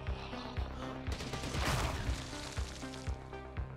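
Explosions and blasts in the zombie video game Zombie Night Terror, a rapid burst of crashing, crackling detonations peaking mid-clip, with sharp repeated impacts before and after.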